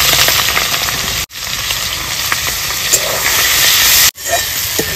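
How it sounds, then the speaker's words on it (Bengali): Shrimp frying in hot mustard oil in a pan, giving a loud, steady close-up sizzle and crackle that cuts out briefly twice. "এই তেলের মধ্যে চিংড়ি মাছ আমি ভেজে নেব।"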